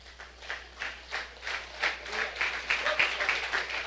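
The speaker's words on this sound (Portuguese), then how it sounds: "Fique de pé e aplauda o Senhor, amado." A standing church congregation claps in a steady rhythmic beat, moderately distant and gradually building, with faint voices mixed in.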